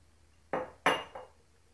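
Hazelnuts tipped into a container land as three quick hard clattering clicks, close and crisp, each fading fast against a quiet background.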